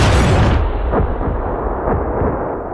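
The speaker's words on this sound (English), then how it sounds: "He detonated a suicide vest hidden under his clothing. The explosion was immediate and devastating." A suicide vest detonation produces a loud, dense blast roar that fills the whole range, then rolls on as a sustained rumble with several heavy thuds and booms underneath.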